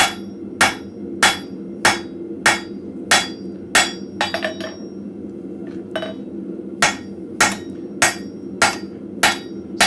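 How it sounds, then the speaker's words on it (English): A blacksmith's hammer rings out on hot metal being flattened against an anvil in a forge shop, with sharp, evenly spaced, loud strikes and a short burst of lighter taps partway through. "all I'm doing is flattening the one side, which will also cause the second side, which is against the anvil,"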